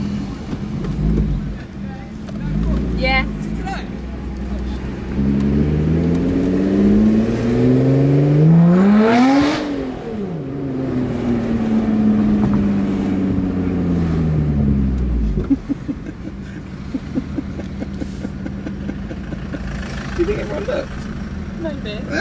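A wagon's engine droning and swelling in pitch as it accelerates and then eases off while driving at 30 to 40 miles an hour, with steady wind rush and someone talking over it throughout.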